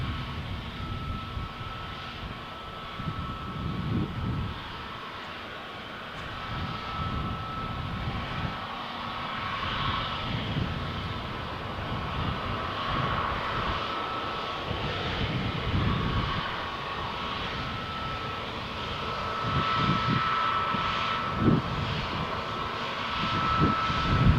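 A jet taking off from Runway 13 at Malaga Airport on a stormy morning, its engine roar building steadily and staying loud throughout over windy background noise.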